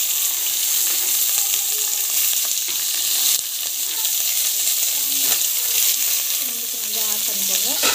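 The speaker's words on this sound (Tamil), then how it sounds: "ஆனியன் போட்டு நல்லா வந்து வதக்கிக்கோங்க." Onions sauté in oil with spices for ghee rice: a loud, dense sizzle runs throughout, with the scraping and clatter of a spoon stirring the pan heard now and then.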